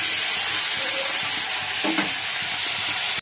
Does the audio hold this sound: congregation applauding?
no